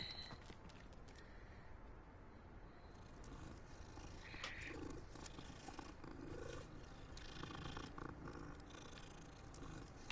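A cat purring in the video game Hogwarts Legacy, a soft continuous rumble under steady game ambience, faint and even throughout with no talking.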